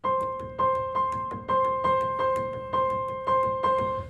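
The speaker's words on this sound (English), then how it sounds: "Well, 22/8 sounds like this." A repeating pattern of tuned percussive notes in 22/8 time, with sharp accents and bright bell-like tones, moderately quiet and without voices.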